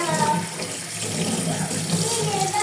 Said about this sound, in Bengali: ভালো করে নুডলসটাকে ধুয়ে নেব